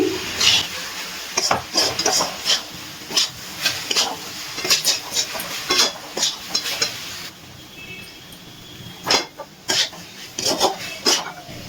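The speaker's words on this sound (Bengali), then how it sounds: "উঠানোর পরে আরো কিছুক্ষণ একটু নাড়াচাড়া করে নিচ্ছি" Chalta (elephant apple) pickle stirred in a pan, with repeated scraping strokes of a spoon against the metal in an uneven rhythm over a soft background sizzle, close up and without talk.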